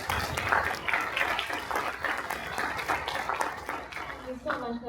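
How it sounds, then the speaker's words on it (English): An audience at an academic research talk claps in a dense patter of applause that runs throughout, with a voice speaking over it near the end. "Could we give him another round of applause,"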